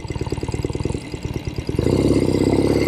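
A 1970 Royal Enfield Interceptor 750 Mk II motorcycle engine while riding, first throbbing in fast even pulses, then surging into a louder, steadier drone as it pulls away up close.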